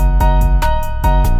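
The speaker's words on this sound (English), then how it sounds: "I went with this creepy piano vibe" Short loud burst of a dark drill beat: booming 808 bass hits and drum strikes under an eerie, creepy piano figure, sustained tones ringing between punchy hits.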